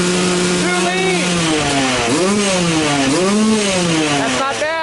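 A Yamaha YZ250 two-stroke dirt bike fitted with an APT smart carb, revving loudly and close, its raspy engine note rising and falling in repeated swells with a buzzy, slightly rich tone.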